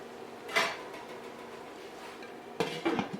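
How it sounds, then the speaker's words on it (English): A metal lid is set onto a pot of simmering couscous with vegetables, two distinct clanks about two seconds apart, the second a rattling double knock, close and fairly loud against a quiet kitchen. "But we're gonna put the lid on it"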